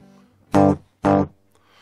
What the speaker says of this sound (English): So I get a slap back.